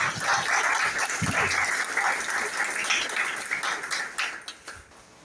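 An audience at a Mauritius industry event applauds for a speaker: dense clapping that starts strong and gradually thins and fades toward the end, with a few sharper taps and a brief bark-like sound early on.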